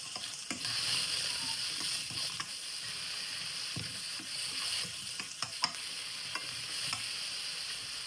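Dried mushroom and carrot drop into a hot pan of vegan sweet and sour stir-fry, giving a steady close sizzle broken by scattered clatters and stirring knocks.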